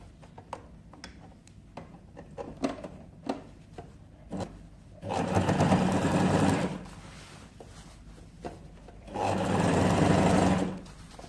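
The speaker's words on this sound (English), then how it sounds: "So we sew in 1/8 of an inch just to make it easy for us to turn." A sewing machine stitching a bias strip onto a neckline at an eighth-inch seam, with two sustained close whirring runs of stitching, each a few seconds long, between soft ticks and handling of fabric.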